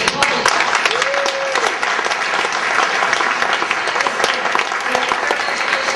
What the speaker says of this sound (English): I would like to have one quick applause for that Teresa Murad.